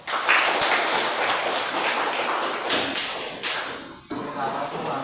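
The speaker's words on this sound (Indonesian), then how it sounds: "tepuk tangan dulu" Classmates in a school classroom clap together after a teacher's cue, a dense, steady burst of hand claps filling the room for several seconds, with a brief dip near the end before resuming.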